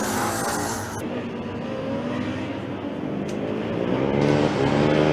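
The Akron Zips Racing Formula Student car, number 330, fires up behind the track with a steady engine drone, loud and continuous, blending with surrounding paddock and track noise at a race event.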